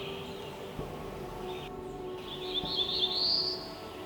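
Bright, high chirping calls of black-throated blue warblers rise over a steady outdoor background at a nature preserve, growing louder and more frequent toward the end.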